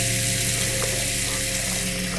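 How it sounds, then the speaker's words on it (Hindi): A bathroom tap turns on by itself and water runs in a steady, even rush throughout, with a low hum beneath and no voices. "तभी अचानक नल अपने आप चालू हो जाता है"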